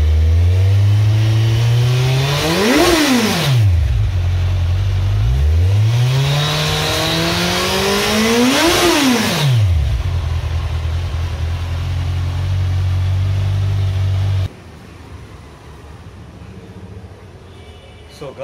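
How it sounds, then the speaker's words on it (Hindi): A motorcycle with dual exhausts and a 190/50 rear tyre idles close by, then gives two sharp revs that climb and fall back. A lower, steady idle follows and the sound drops off abruptly. "चलिए अभी एग्जॉस्ट का साउंड सुनाते हैं आपको। आपको डुअल एग्जॉस्ट मिलेंगे इस गाड़ी में।"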